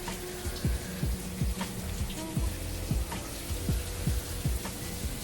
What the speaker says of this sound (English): I'm going in for my second shampoo here.